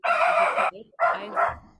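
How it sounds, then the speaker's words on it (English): A puppy barks twice in two long, loud bursts separated by a short pause, with faint background noise and no talking over it. "It's okay. It's a puppy."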